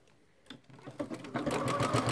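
A sewing machine stitching through fabric, its quiet motor whirring up from near silence into a steady, fast needle rhythm that builds in loudness.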